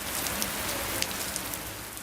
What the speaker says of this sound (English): Sharp rain showers set to intensify as Storm Kieran approaches.